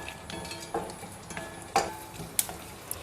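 Dried sundakkai, turkey berries, fry in a little oil for vathal kulambu, a faint low sizzle broken by a few sharp clinks and scrapes of a spoon against the pan.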